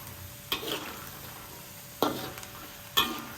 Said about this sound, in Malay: Sekarang saya tengah goreng kacang tanah ya guys